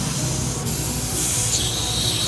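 A steady high hiss of refrigerant leaking from a refrigerator runs continuously, fairly close, with a slight shift in pitch midway.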